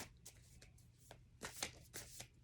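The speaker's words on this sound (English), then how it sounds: "Let me just shuffle a couple times" Tarot cards being shuffled in quick riffling bursts, several crisp flutters with short pauses between, close and fairly quiet.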